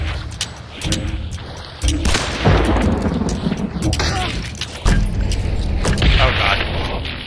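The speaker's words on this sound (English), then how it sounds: "I'm shooting above him" Repeated loud gunshots and booming impacts fill a chaotic video game firefight, firing in bursts with heavy mechanical clatter throughout.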